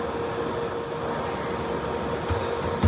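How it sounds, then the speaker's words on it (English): A London Underground 1938 stock train on the Bakerloo line heard from inside the carriage: a steady, loud rumble and hum that holds level throughout, with a faint clunk at the end. "This is a Bakerloo line train to Elephant and Castle."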